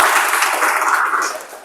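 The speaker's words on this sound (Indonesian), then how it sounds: "mari kita beri tepuk tangan." A crowd claps steadily, a dense wash of applause that fades slightly toward the end.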